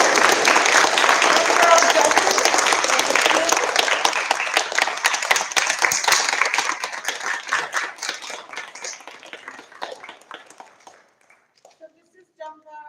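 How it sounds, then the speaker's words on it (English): A school audience gives a final round of applause, loud and dense at first, then thinning into scattered claps that die away, with a voice starting up at the end. "let's have one last round of applause for all of you"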